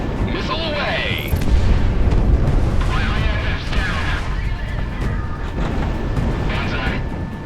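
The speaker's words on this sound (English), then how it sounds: "Radar lock, take him down. Enemy pressure dropping. Missile away." Missile launch and explosions in the jet combat game Project Wingman, a loud sustained roar with deep booms, whooshing jet engine sounds and radio-style voices talking over the action.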